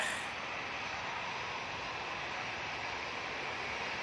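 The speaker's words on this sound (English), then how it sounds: "Coming down in front of us now is Watermelon Airlines, aka TAP Portugal." A TAP Portugal airliner descending to land at Manchester Airport makes a constant, fairly faint engine rush that neither swells nor fades over the few seconds, heard from a distance with no voices.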